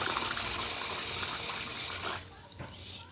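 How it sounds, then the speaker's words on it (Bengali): Water poured from a vessel onto washed rice in a pressure cooker pot for biryani, a steady broadband splashing stream for about two seconds, then a quieter tail with a faint trickle and a brief final splash. "আর একটু জল দেব।"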